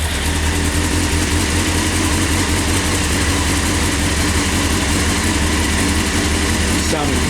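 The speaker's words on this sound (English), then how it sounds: "let's go ahead and hear this thing running. All right, let's go ahead and start her up" A 1998 Honda CBR 600 F3 motorcycle with a polished exhaust idles loudly and steadily up close, a continuous deep rumble with a slight shift near the end.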